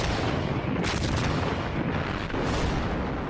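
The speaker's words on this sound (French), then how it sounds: "L'artillerie allemande fait des ravages dans leurs rangs." German artillery fire in World War II thunders in dense, continuous booms and blasts, a loud wall of heavy gunfire with a few sharper bursts standing out, with no voices over it.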